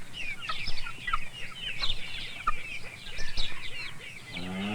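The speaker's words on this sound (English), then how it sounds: "The ducks and chickens and turkeys wake up first, and their loud voices let me know it's morning" Chickens cluck and call at dawn on a 1970s Italian family farm, with other farm fowl among them; repeated nearby squawks and bursts overlap in an irregular chorus, fairly loud and continuous.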